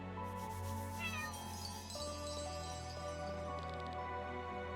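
Cat meows and caterwauling sound effects from the Chained Echoes video game, a few distinct meows over steady game music, with a faint tinkle near the end.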